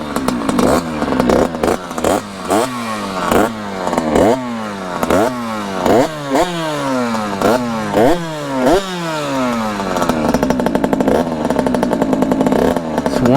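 A gas-powered Surron motorbike engine warms up, blipped repeatedly in loud, rising-and-falling revs before settling into a steadier, buzzy idle with clattering mechanical noise, heard close with no talking.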